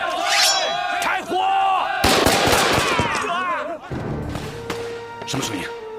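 Loud bursts of machine-gun and rifle fire ring out in a kung fu movie battle scene, with shouting crowd voices and battle cries mixed in over about six seconds of dense, chaotic gunfire.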